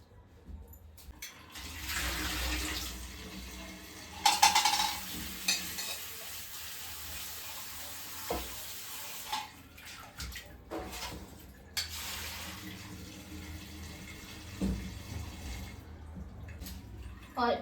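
A bunch of grapes is swished and rinsed in a bowl of water, with repeated splashing, sloshing and dripping up close, while a voice talks at times.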